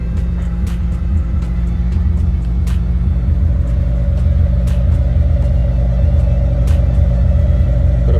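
An untuned Suzuki Samurai engine runs steadily at close range, giving a continuous rumbling idle with a slight rise partway through as the throttle is blipped. No one speaks.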